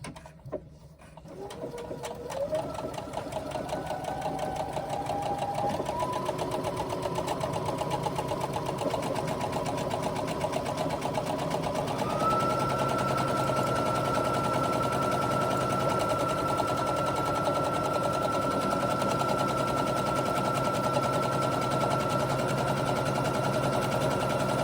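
A sewing machine works a buttonhole for a swim bag, a continuous mechanical whir with rapid, even stitching that holds steady at close range for over twenty seconds.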